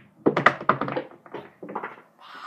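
Pool cue strikes a ball during a casual game with friends, giving a sharp near knock followed by a few lighter clacks as balls collide, then quieter taps trailing off.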